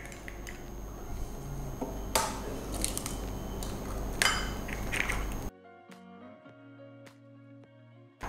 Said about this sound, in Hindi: सबसे पहले क्या करेंगे कि इसके अंदर हम तोड़ देंगे अंडे, 5 अंडे इसके अंदर तोड़ेंगे